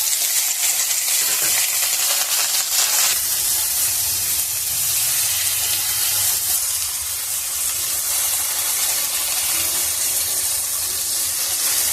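Diced medium potato hitting hot oil in a pan for a bitter chorchori dish, crackling in a loud, steady broadband sizzle with occasional scraping as it is stirred, no voices.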